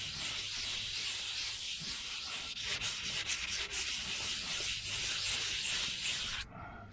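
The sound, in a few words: wet sanding car paint with sandpaper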